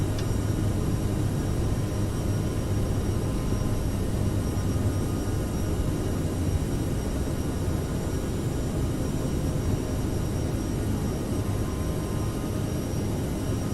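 A Bombardier CRJ regional jet in Microsoft Flight Simulator climbs after takeoff, giving a steady broadband cockpit roar with a constant whine, unbroken and even throughout.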